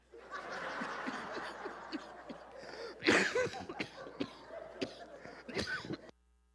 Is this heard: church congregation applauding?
no